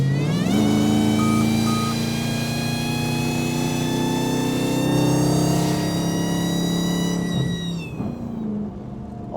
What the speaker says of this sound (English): All you hear is whine and exhaust, man.